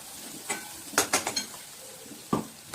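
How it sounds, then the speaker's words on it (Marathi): Ground masala paste for egg curry frying in oil, with a soft continuous sizzle under a few sharp close clinks and scrapes of a spoon against the pan, quiet and without talk. "आपण छान करीला तेलामध्ये फ्राय करूया।"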